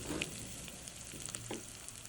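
Crushed pepper, garlic and ginger fry in oil with mustard seeds and dried chilli for rasam, giving a soft, steady sizzle with a few faint pops and light stirring scrapes, fairly quiet, no talking.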